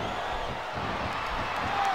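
A capacity arena crowd roars and cheers in WWE SmackDown! vs. Raw 2007 during a Chris Benoit vs. Shane McMahon wrestling match, a dense, steady wash of noise throughout.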